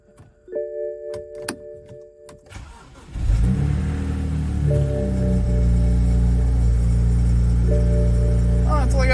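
A totaled salvage-auction car with a manual gearbox, sitting for months, cranks and catches on a jump start, then settles into a steady loud idle after a few clicks and faint chimes.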